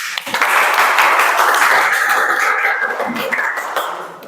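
Students in a classroom clap for a group that has just finished its worksheet, a burst of brisk close applause that swells quickly and then gradually thins out.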